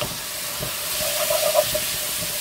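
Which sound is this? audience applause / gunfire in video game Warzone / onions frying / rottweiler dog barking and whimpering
onions frying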